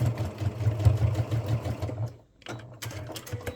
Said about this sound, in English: we'll do a top stitch about 1/8 inch away from that folded edge